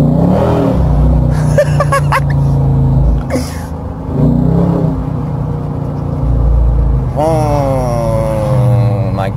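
A 2018 Daytona's engine revs and accelerates loudly up close, a steady rumbling drone with rising pitch sweeps near the end, with a few brief voice bursts mixed in.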